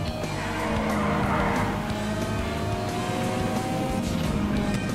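A fast car in GTA V races with a loud revving engine and sustained screeching tire squeal and skidding, continuous and close throughout.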